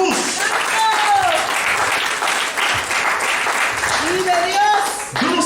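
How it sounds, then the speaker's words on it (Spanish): A church congregation applauding in a sustained wash of clapping, with voices shouting and a speaker talking over it. "Dale una ofrenda de palmas a Jesús."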